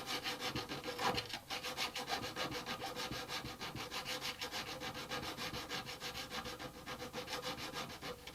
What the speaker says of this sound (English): With this file, I can round the ends of the fret.